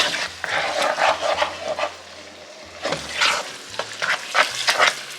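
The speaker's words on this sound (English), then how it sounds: "Just gonna stir all of this, and we're gonna let it simmer for about 30 minutes." A sauce being stirred in a pot as it starts to simmer, with scraping stir strokes over a steady low bubbling, close and fairly loud, no talk.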